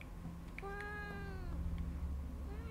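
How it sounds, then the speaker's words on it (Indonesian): A cat meows in the Fears to Fathom horror game, several drawn-out rising-and-falling cries close by over a steady low background hum. "Anjir ada kucing."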